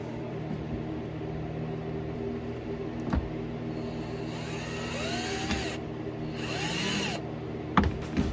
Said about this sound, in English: I'm going to put these little screws back in. I'm going to use, again, my little Bauer drill.